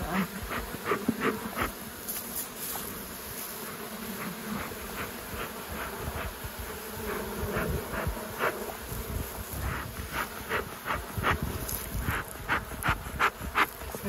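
Honey bees buzz steadily around closely spaced rural beehives, a dense swarming drone with individual insects zipping close past the microphone throughout.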